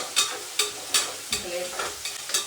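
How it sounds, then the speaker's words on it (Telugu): Goat brain frying in a pan for head curry, sizzling steadily while a utensil stirs in about seven regular scraping strokes, close and fairly loud with no talk. "బ్రెయిన్ ఫ్రై చేయడానికి ఇటు పెట్టేసిన"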